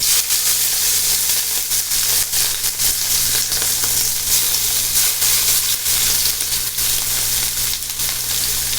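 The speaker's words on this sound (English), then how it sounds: "Alright, pan is hot. Let's get the shrimp in." Shrimp sizzling loudly in a hot pan, a dense, continuous close-up hiss and crackle with slight fluctuations and no speech.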